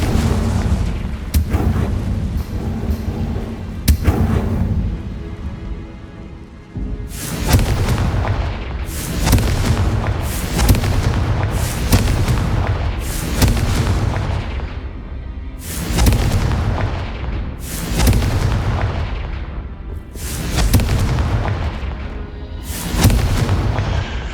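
Confringo spell blasts in a Harry Potter video game boom out one after another, about ten loud, deep explosions spaced a couple of seconds apart, each with a short rumbling tail and no talking.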